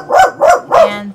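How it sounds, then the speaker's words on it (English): A dog barks three times in a quick, evenly spaced series, loud and close, with a faint whimper trailing after the last bark in an indoor setting. "and there's the bark."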